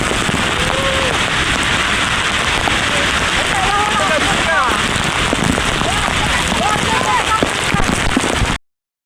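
Heavy monsoon rain pours down while a family walks outdoors through it, a loud, dense, unbroken roar of drops hitting surfaces with faint voices mixed in, cutting off abruptly at the end.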